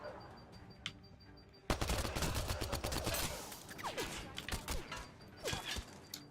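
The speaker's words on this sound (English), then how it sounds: "Who keeps fucking shooting at me from the back?" Sustained gunfire in Mass Effect Andromeda during a fight alongside the Angara against the Kett, a loud rapid fusillade of shots bursting in abruptly and continuing with mechanical clatter mixed in.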